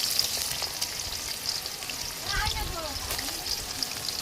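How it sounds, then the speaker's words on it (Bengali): Sliced onions frying in hot oil for chicken biryani beresta, a dense close sizzle with a surge of crackling as they settle into the oil, steady throughout. "বেরেস্তাটা ভাজার জন্য পেঁয়াজগুলো দিয়ে দিলাম"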